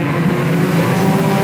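Stock race cars roar around Sauble Speedway in a Bone Stocks race, a steady loud engine drone holding constant pitch with no talk over it.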